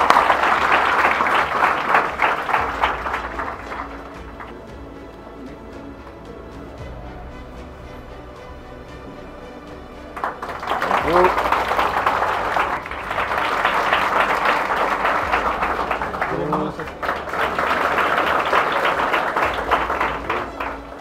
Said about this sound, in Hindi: ताली बजाए हमारे लाडले स्टूडेंट के लिए।